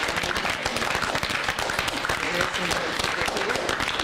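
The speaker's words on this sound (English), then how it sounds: "can we please give a round of applause for everyone who was" An audience at a receivers' meeting bursts into broad, continuous applause, many hands clapping together at a steady level, with a voice faintly audible beneath.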